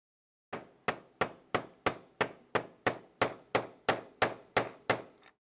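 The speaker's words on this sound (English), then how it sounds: "give it a little tappy tap" A model kit part tapped into place with the handle of a screwdriver, thirteen evenly spaced sharp knocks in a steady rhythm, close and moderately loud, with no talk.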